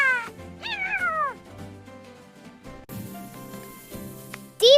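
A cat meows loudly and close several times in quick succession, with long descending cries early and a final sharp meow at the end, no talking.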